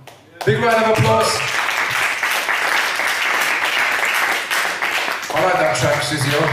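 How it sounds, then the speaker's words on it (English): Applause and clapping from an audience fills a bar in Birmingham, steady and loud for several seconds, with a voice speaking over the start and end. "Big round of applause."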